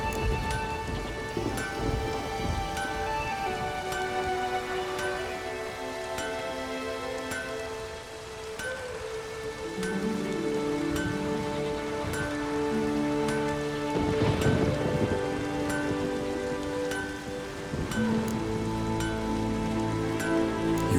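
A rainstorm with thunder in the video game Witcher 3, steady rain noise running throughout beneath sustained game music, with a swell around the middle.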